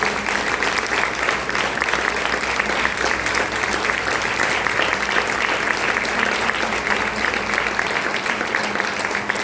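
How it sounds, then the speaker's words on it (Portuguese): Church congregation applauding during a Holy Communion service, a dense, steady wash of many hands clapping that holds loud and continuous throughout. "Você pode aplaudir o nome do Senhor Jesus por isso?"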